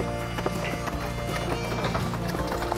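Draft horses' hooves clomp steadily through mud with a dense, continuous rumble of movement, close by and fairly loud, with no pauses.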